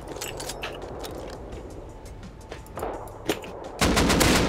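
Gunfire in the survival game Rust during a raid on a snow base: a burst of rapid shots with clattering reports, louder and denser toward the end, no talking.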